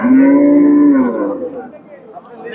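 A single deep, drawn-out moo from a crossbred cow close by at a cattle market, lasting about a second before trailing off into quiet background noise.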